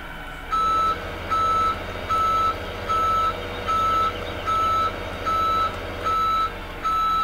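Truck reversing beeps in the farming game Farming Simulator 15: a steady run of evenly spaced electronic beeps, about nine in a row, loud and clear over a constant low engine drone.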